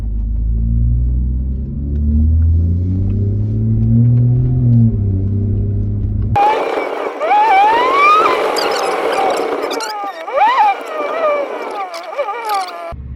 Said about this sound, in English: It's loud ass car.